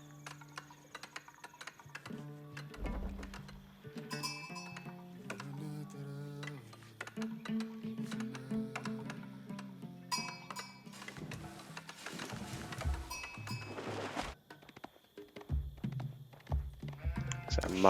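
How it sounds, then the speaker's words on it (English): Sheep bleat in a real-time strategy match, heard as short repeated in-game calls amid a dense mix of clicks, unit sounds and interface effects. "So Mali player continuing to find more sheep at the moment."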